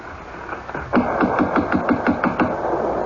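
A fist knocks on a closed house door in a dramatized Les Misérables scene, about eight fairly even, solid raps in a quick run, close and firm over a low room hum.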